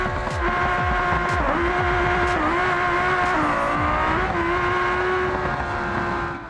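A Scintilla drag car with a 6-speed sequential transmission running a quarter-mile in BeamNG, a loud sustained engine roar that climbs and dips through quick, near-seamless gear shifts.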